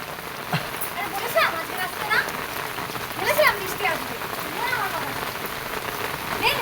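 Rain pours down steadily on a rainy day, a dense, even patter on surfaces broken by occasional sharper splashes and drips nearby.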